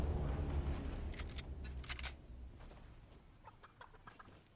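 Chickens in the Fortnite game give a few sharp clucks and squawks in short bursts, nearly up front at first and then fainter and more scattered, over a low rumble that fades away.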